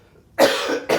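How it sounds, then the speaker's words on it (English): Two harsh coughs from a man, close and loud, a longer burst followed by a shorter one with a brief gap between them, and no talking. "I cannot kick this cough either."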